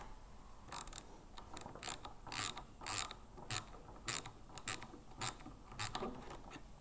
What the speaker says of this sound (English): we're going to be putting our 16 mil socket on, and we're just going to be taking out this outlet valve here